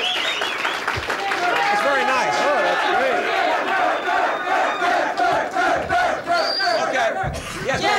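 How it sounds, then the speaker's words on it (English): A large crowd applauds and cheers loudly and continuously, with a dense wash of clapping and voices filling the whole stretch. "Give a nice round of applause."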